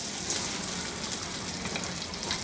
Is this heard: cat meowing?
no